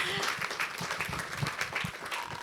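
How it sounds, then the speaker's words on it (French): An audience at a French municipal planning congress gives a steady round of applause lasting a couple of seconds, with dense overlapping claps at moderate volume. "je crois qu'on peut l'applaudir."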